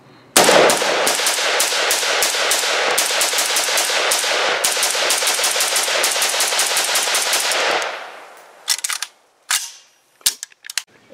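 An ATI Galeo rifle, a clone of the IMI Galil, fires a long rapid string of loud, evenly spaced shots for about seven seconds. A few scattered single clicks and clacks follow.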